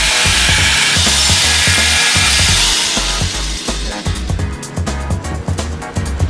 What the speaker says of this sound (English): I'm using a jigsaw here, but you can use Sawzall or a number of ways.